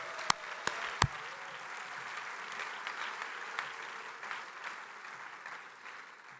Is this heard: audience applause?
yes